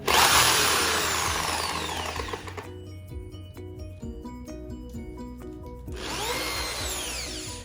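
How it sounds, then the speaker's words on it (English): A power drill bores holes in the wooden frame of a canvas artwork, whining loudly in two close bursts with a quieter rattling, ticking stretch between them. "I mark some points and add the drill bits to make holes"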